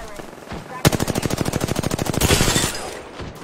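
Rapid automatic gunfire in the video game Apex Legends, a loud near burst of evenly spaced shots lasting about two seconds, then tailing off, with game sounds around it.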